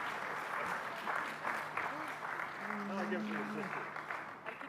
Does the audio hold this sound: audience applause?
yes